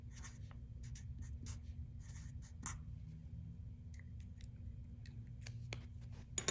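A pencil scratches across paper while a geometry construction is drawn, making short, faint strokes and taps in irregular bursts against a steady low room hum, with no voices.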